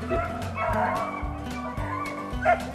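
Several rabbit-hunting dogs bark and bay in quick succession, moderately close, with short overlapping yelps.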